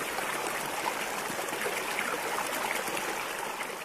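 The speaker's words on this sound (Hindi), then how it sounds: "पास में कृष्णा नदी है।" The Krishna river beside an Indian village flows steadily, a broad, continuous wash of moving water that stays constant with no voices over it.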